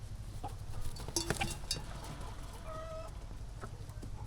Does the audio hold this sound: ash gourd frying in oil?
no